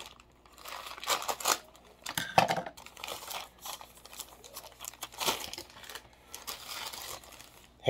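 Mail packages are opened with scissors, giving a quiet, close run of crinkling, tearing and snipping sounds in irregular bursts with short pauses, with no talking.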